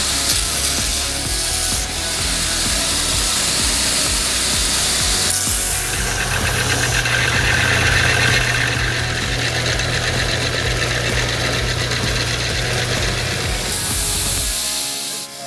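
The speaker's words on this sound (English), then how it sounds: "Just finished sanding it on the machine." A knife handle being sanded on a powered sanding machine, a steady loud grinding rasp with a continuous motor hum that runs nearly the whole time, then stops just before the end.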